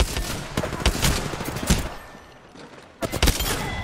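Rapid bursts of automatic gunfire in the battle royale video game Apex Legends, loud and close, with repeated volleys broken by a short lull before another burst.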